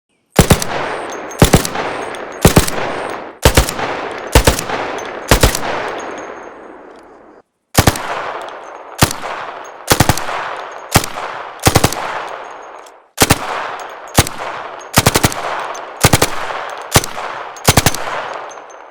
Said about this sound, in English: Comparing level 1 weapons with level 4 weapons, it seems the design approach is to make the guns sound a bit brighter and quote-unquote cleaner the more you upgrade them